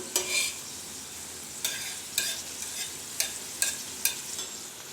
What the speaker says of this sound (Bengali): এভাবে উল্টে পাল্টে আমি এটাকে ভালো করে ভেজে নিব